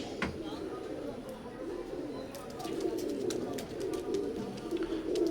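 A golden teddy pigeon that is not yet paired coos in hot weather, giving soft low repeated coos at close range over a rough background. Faint human voices murmur along with the cooing.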